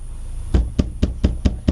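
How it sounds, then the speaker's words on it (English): Six evenly spaced hollow knocks, close and solid, like rapping on a taxi cab's roof, each a short thud about a quarter second apart over a faint steady background. "He heard something knocking on the roof of his cab."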